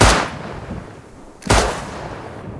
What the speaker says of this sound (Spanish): ¿Estás disparando tú, Fantasma?